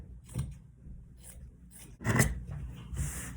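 Scissors snip through a t-shirt to cut fabric strips, a few quiet separate cuts followed by a longer, louder slicing run near the end.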